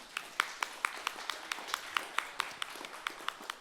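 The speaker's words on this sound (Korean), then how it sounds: "우리 모두 최은열 의원님을 박수로" Sparse, evenly spaced handclaps sound at a conference honoring a member of parliament, fairly faint and slightly distant, each clap crisp and separate in a steady rhythm.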